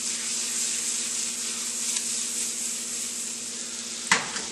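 Shrimp scampi sizzles loudly and steadily in a pan as it is stirred, with a single sharp utensil clink near the end.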